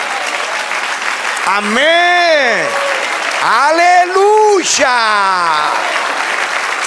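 A church congregation applauds in a steady broadband wash while several voices shout praises loudly over the clapping throughout.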